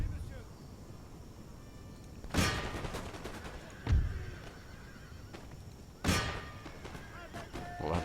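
Musket volleys from cavalry in the Empire: Total War video game, three sharp broadband bursts with decaying tails over a constant battle din, with horse whinnies and a voice talking.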